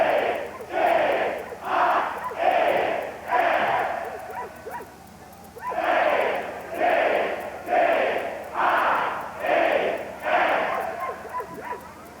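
Texas A&M Aggie crowd of former students, alumni and friends yelling while bent over with hands on knees at a 1992 bonfire, giving loud massed roars in repeated bursts with short pauses between them.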